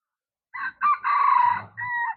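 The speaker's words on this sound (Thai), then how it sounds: "เสียงไก่ขันพี่น้อง" A rooster crows once at a seaside spot in the morning, loud and fairly close, its call rising and then trailing off in a drawn-out final note.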